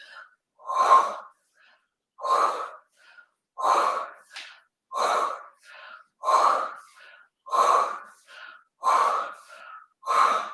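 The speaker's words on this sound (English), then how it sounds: "you're going to take a deep breath in. We're going to exhale" Slow, deep breaths during a Pilates workout, each breath a loud, close, breathy whoosh repeating about every one and a half seconds in an even rhythm, with quiet pauses between and no speech.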